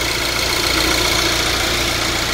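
Engine of a 2015 Kia K3 idling with the hood open and the accessory belt turning, a steady close mechanical hum with a faint rhythmic ticking throughout.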